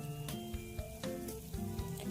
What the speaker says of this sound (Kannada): ನಂತರ ಕಟ್ ಮಾಡಿರುವಂಥ ಈರುಳ್ಳಿ ಹಾಕಿ ಅದನ್ನು ಫ್ರೈ ಮಾಡ್ಕೊಳ್ಳಿ.